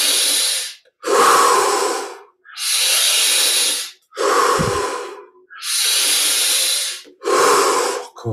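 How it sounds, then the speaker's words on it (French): Deep yoga breathing during a Kriya Yoga exercise, six long, loud breaths close to the microphone, alternating inhales and exhales with brief silent gaps between them. "On va rajouter 5 respirations."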